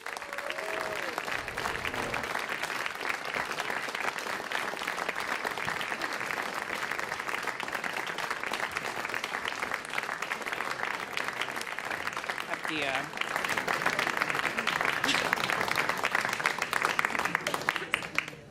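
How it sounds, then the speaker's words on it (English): Sustained applause from an audience welcoming six brewers at a Bay Area craft beer event, a dense steady wash of clapping that swells louder near the end, with scattered voices and cheers mixed in. "Let's start by giving a big round of applause to our 6 brewers tonight"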